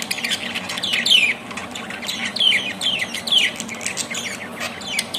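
Pet budgies in a cage chirp and squawk in quick, repeated bursts, with several sharp calls overlapping close by over a faint background hiss.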